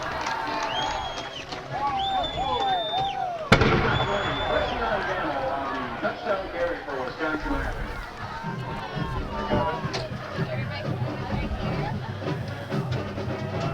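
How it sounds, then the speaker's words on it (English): A cannon fires once after a touchdown at a high school football game. The single sharp boom cuts through ongoing crowd noise and steady commentator talk. "here comes the cannon."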